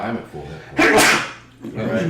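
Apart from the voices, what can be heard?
sneeze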